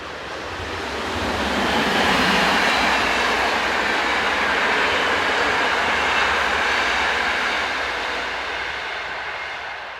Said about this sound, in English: Number 2801 is on an Amsterdam to Brussels intercity service.